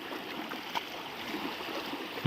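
A mountain river, the second one crossed on a long hike near Tayabo, San Jose City, flows and gurgles steadily at moderate distance, with a brief knock near the end.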